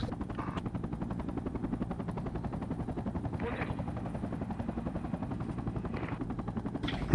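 Low-flying aircraft in Project Reality make a steady, quiet rotor-like chopping drone that holds evenly throughout, with a few faint swells and a sharp sound right at the end.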